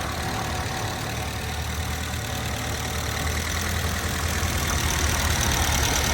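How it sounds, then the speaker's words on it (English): A 1949 Ford Prefect's small Ford 1172 engine idles steadily at close range, a continuous even mechanical rumble with a faint rhythmic knock and no break or change in pace. "here we have a little Ford 1172 engine, just doing what it should, idling away nicely."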